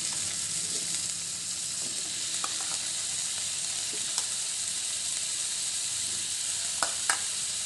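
Onion and tomato sauté in a hot pan with a continuous close, bright sizzle and a few soft stirring clicks, no voices.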